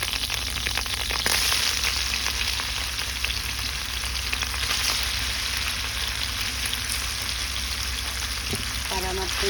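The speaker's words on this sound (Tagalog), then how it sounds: "Para ma-prito yung ibang parts ng tokwa." Tofu frying in a pan sizzles steadily for the whole stretch, a close, dense hiss with crackles; a few faint clicks and brief utensil sounds near the end.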